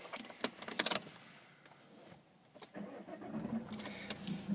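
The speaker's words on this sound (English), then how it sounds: "looking at the display whilst I start the car" A manual-transmission car cranks and its engine starts, preceded by jangling keys, then settles into a quiet idle heard close by in a calm setting.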